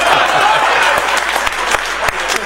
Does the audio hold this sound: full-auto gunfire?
no